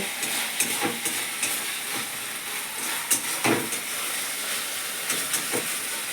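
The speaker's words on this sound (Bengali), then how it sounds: "সব মশলা তেলগুলো সুন্দর করে ভালো করে ফ্রাই করতে হবে যাতে কাঁচা কাঁচা গন্ধ না হয়" Spices sizzling in oil for chicken curry, a steady hiss and crackle with occasional scraping knocks as the pan is stirred.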